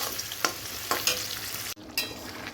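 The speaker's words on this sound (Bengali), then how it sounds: "দেখো এখন হচ্ছে মশলাটা ভালো করে কষাচ্ছি" Spice paste being stir-fried in a pan sizzles steadily up close, with several sharp spatula scrapes and one sudden dip in the sizzle before it resumes; no talking.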